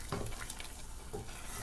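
Spoon stirring saffron risotto alla Milanese in a pan, soft scraping strokes with a faint sizzle beneath, close and quiet.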